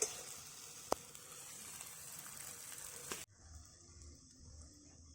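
Carrots, peas and boiled potato sizzle and fry in oil with occasional stirring scrapes, a steady hiss that drops sharply quieter partway through, with no talking.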